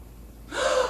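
A comedian on stage imitates the shocked gasp of churchgoers, a single sharp, close intake of breath that rises abruptly after a moment of near silence.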